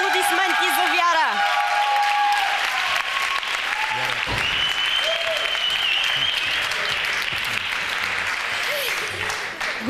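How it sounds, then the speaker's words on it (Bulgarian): Studio audience applause rings out for a singer on a live televised talent show, a dense, steady wash of clapping lasting throughout, with cheers and some music fading out at the start. "Вашите аплодисменти за Вяра!"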